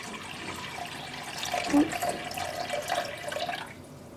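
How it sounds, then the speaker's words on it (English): Plain water poured into a pot holding two mason jars, a quiet splashing trickle that swells and fades over a few seconds, close by with no talking. "I have my 2 mason jars in a pot, and I'm going to pour plain water."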